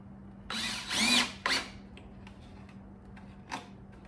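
A power drill drives a screw while a wooden fruit stand is being built, two short whirring bursts close by, then a brief third pulse after a pause over a low steady hum, with no talking.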